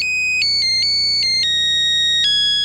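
A Nokia phone ringtone plays the Nebraska fight song as a bright electronic melody of clean, sustained beeping notes that step between pitches. It is loud and close, with no voices over it.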